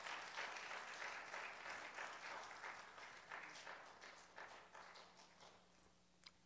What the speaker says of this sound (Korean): 우리 목사님 나오실 때 환영의 박수로 맞이하겠습니다